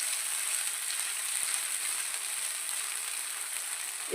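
Crushed ginger frying lightly in a pan, giving a steady, even hiss of sizzling oil that runs unbroken throughout at moderate loudness, with no voices.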